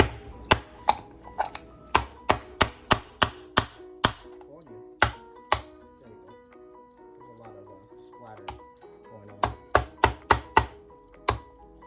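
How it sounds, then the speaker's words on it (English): A small mallet cracking a cooked lobster claw on a kitchen board: a run of sharp, loud knocks in quick bursts, pausing and resuming, with a person talking between strikes. "I have a little mallet. We'll try the claw this way."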